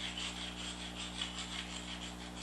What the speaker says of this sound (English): going back in here with the carbide stone,